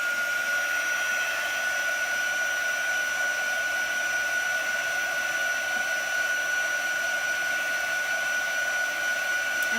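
A dryer blows steadily over chalk paste on a teal board, a close, loud, constant whir with a high whine running the whole time and no talking.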